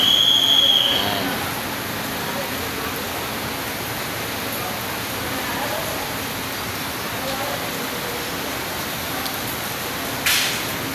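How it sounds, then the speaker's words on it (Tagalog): Heavy, unbroken rain pours steadily outdoors at a Victory Liner bus terminal in Sampaloc, Manila, a dense continuous hiss that stays loud throughout with a brief louder burst near the end. "Grabe lakas ang ulan."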